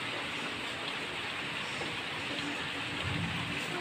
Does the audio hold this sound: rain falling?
yes